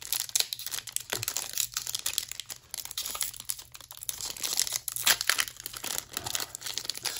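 Crinkly foil wrapper of a trading card booster pack being torn and crumpled open up close, a continuous dense rustling with sharp tearing spikes.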